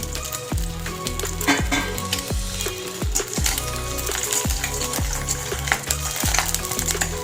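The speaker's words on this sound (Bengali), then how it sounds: "ডিমে এভাবে করে পোচ করে নেব" Eggs fry in a pan, poached for a Bengali egg curry, with a close, continuous sizzle punctuated by repeated sharp clicking taps at an uneven rhythm.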